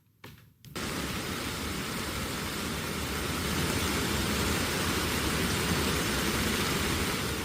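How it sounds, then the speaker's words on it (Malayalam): Heavy rain falling in Riyadh, Saudi Arabia, a dense, even roar of downpour that starts abruptly after a brief quiet moment and keeps on loudly, swelling slightly, with no voices. "തുള്ളിക്കൊരു കുടം കണക്കെയാണ് ഇപ്പോൾ മഴ"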